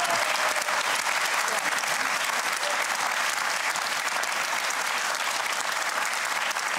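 A studio audience on the Markus Lanz TV talk show applauds steadily for the full duration, a dense, even roar of many hands clapping with no talk over it.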